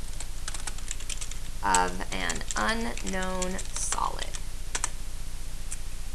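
Someone types on a computer keyboard, entering a title into Excel Online. Quick scattered key clicks run throughout, with a person speaking briefly over them.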